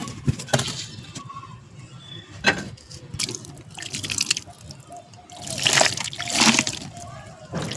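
Water poured onto a newly planted ginger plant in a rooftop pot, soft splashing and dribbling in several bursts, interleaved with a person talking.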